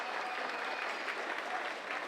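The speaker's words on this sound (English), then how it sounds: "Can we give it a round of applause?" Brief, steady audience applause at a community celebration for the 125th birthday of the centennial light bulb, a soft wash of many hands clapping with no break.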